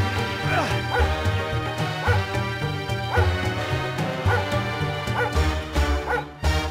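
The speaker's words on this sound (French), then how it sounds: "dès que je pousse avec les mains, on peut entendre un bruit de chien qui aboie" In the PlayStation 1 game Aladdin, a dog-like barking and yipping sound repeats as a door is pushed by hand, loud and rhythmic over a dense bed of game music.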